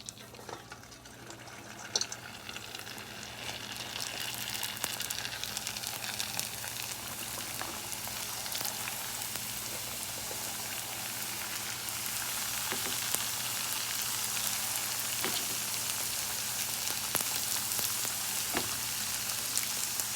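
Cream cheese wontons fry in hot oil with a continuous bubbling sizzle that slowly grows louder over about twenty seconds. Sharp pops and crackles break through now and then.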